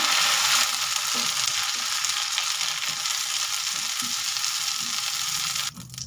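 Ingredients sizzle in hot oil in a pan while flat beans and potatoes are cooked for a Bengali curry, a loud, steady crackling fry with light stirring scrapes and a brief drop near the end.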